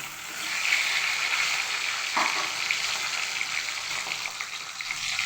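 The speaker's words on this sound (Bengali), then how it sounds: "ভাজা হয়ে গেছে, এবার টমেটো দিয়ে দিলাম।" Tomatoes are added to hot oil already frying boiled potatoes, producing a steady, close sizzle with a brief splashy burst partway through and faint stirring underneath.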